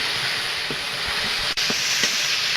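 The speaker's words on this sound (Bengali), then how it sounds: "তেলটা গরম হয়ে গেছে, আমি পেঁয়াজ রসুন দিয়ে দেব বাটা।" Onion and garlic paste fries in hot oil in a kadai, giving a steady, close sizzling hiss with a few small pops.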